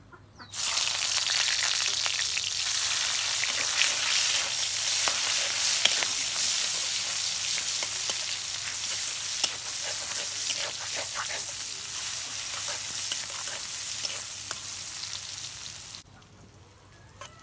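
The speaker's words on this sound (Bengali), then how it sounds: "পাতাকপি ভাজবার নিগে আমি এখন শুটকি মাছ কষাইয়া নেব।" Dried fish sizzling loudly in a pan with onion, green chilli, salt, turmeric and spices, a dense continuous frying hiss that cuts off abruptly near the end.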